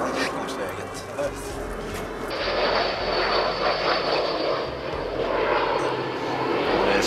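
Saab J29 Tunnan jet fighter engine droning steadily while taxiing on the ground, rising slightly in intensity partway through, with wind noise and a voice murmuring underneath.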